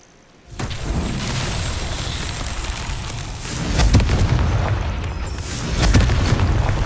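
Repeated Confringo blasting-spell explosions in Hogwarts Legacy, a sustained roaring barrage of booms with surges near four and six seconds, loud and close, with no voices.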